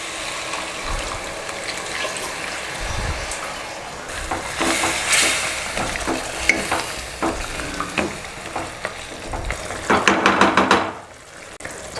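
Chettinad chicken chukka fries in a pan, a steady oily sizzle broken by repeated scraping stirs of the spoon against the metal, fairly close and continuous, with no voices.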